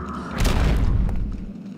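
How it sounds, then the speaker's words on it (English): Explosion in the video game Eternal Darkness: Sanity's Requiem, a single deep boom that rolls out and fades over a low rumble. "That was an adorable explosion."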